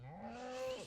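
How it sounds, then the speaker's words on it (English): A single drawn-out moo from a jungle cow in Minecraft, rising and then falling in pitch, close and clear with nothing else around it. "Is that a cow? It's a cow. It's a jungle cow."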